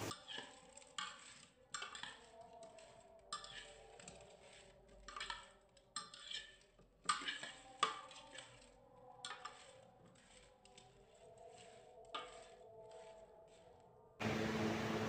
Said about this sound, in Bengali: দিয়ে আবারও ভালো করে মিশিয়ে নিচ্ছি।